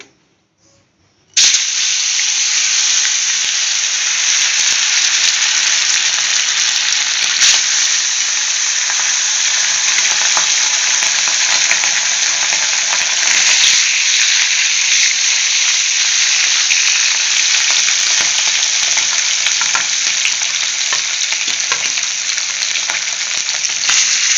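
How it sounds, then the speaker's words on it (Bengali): Fish drops into hot oil in a wok and a loud, steady sizzle erupts, crackling and hissing continuously without letup for over twenty seconds. "তেলটা পুরো গরম হয়ে গেছে এবার হচ্ছে মাছটা দিয়ে দেবো কড়াইয়ে"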